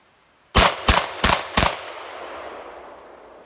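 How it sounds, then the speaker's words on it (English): A Mossberg 5500 semi-automatic gas-operated shotgun fires four loud, rapid shots outdoors on a farm, each a sharp blast, followed by a long fading echo. "It's the Mossberg 5500 gas gun, semi-automatic."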